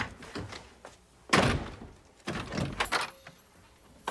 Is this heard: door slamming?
yes